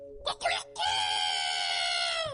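A human voice imitates a rooster's crow: two short rough bursts, then a long, loud, sustained crowing cry held for over a second.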